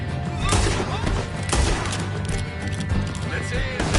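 Gunfire in the Red Dead Redemption 2 video game: dense overlapping shots and crashing impacts in a sustained loud barrage, with voices shouting over it.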